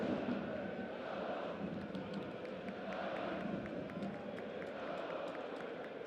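Crowd applause at a German third-division football match between FC Hansa Rostock and FC Erzgebirge Aue, a steady distant wash of clapping and stadium noise lasting throughout, with no clear talk over it.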